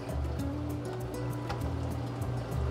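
Water trickling and spilling steadily from a leaking SunSun aquarium canister filter after seven years of use, a continuous close splashing wash with faint clicks throughout.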